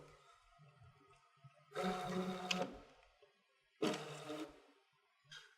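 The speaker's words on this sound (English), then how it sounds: "so I'm going to scan it." A Brother Scan N Cut machine scans copy paper in two separate motorised whirring passes, quiet and close, with a faint short third start at the end.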